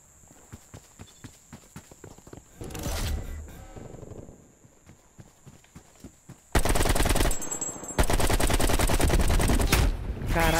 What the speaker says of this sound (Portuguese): Caralho, eu errei todos os tiros.